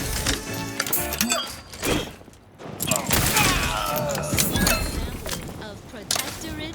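Gunfire in the Outer Worlds 2 video game on Xbox Series X, loud rapid bursts of shots and impacts with a short lull partway through, mixed with game effects and background voices.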